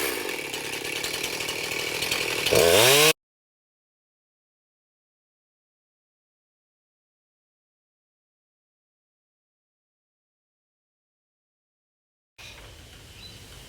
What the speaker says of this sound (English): I'm not pushing on the saw, I'm really just letting the whole weight of the saw take itself down